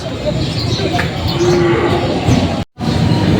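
Cattle mooing at a cattle and water buffalo market, several loud, drawn-out calls over a constant crowd and livestock din, broken briefly by a short silence near the end.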